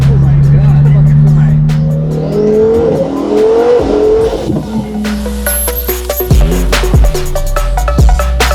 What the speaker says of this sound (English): Brand new Lamborghini Aventador.